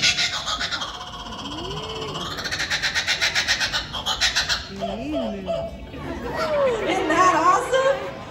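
A kookaburra's raucous, laughing call at an animal show, loud and close, rising into cackling chatter that rolls on for several seconds over faint background voices.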